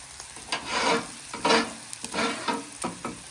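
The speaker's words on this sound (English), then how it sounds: "just want to give it a good scrape because all that fond, get that grease off of there right in your grease chute" Metal spatula scraping ground beef grease and fond across a hot griddle, several rhythmic sizzling scrapes in quick succession, close and fairly loud, with no talking.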